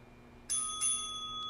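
A bell marks the end of a children's class meditation: two clear, ringing strikes a moment apart, each leaving a sustained tone that fades over a quiet room.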